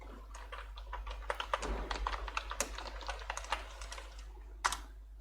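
Fingers tap out a command on a computer keyboard, quick irregular clicks in short bursts, close and fairly quiet, with no talking.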